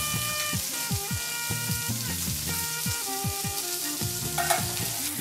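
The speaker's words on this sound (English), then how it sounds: "I finished pan searing my tilapia" Two tilapia fillets searing in a hot pan: a continuous close sizzle with crackling spatter, mixed with steady tonal sounds throughout, and no voices.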